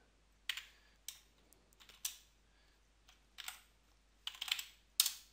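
Someone typing a DOSBox mount command on a computer keyboard, sparse clusters of crisp clicking keystrokes with short pauses between them, close and fairly quiet.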